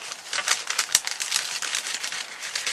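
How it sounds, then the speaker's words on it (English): Small nail scissors snip through a paper template for sugar flower leaves, giving a fast, steady run of crisp clicking cuts close to the ear, with no talking. "I've got some little nail scissors here, so I'll use these to cut this out."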